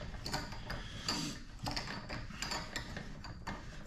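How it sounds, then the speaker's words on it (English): Threaded metal fitting for a custom turbo kit being spun into place, producing repeated ratcheting clicks and scraping mechanical ticks in an irregular rhythm, close and fairly loud. "Now it's threading."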